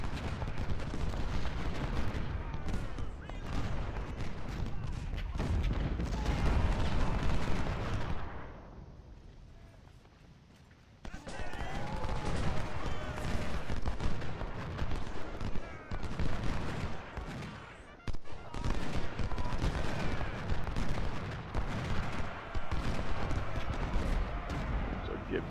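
Musket volleys crackle and roll in a Civil War battle from Ultimate General: Civil War, dense ragged gunfire that briefly drops away near the middle before resuming loud and continuous, with sharp cracks breaking through.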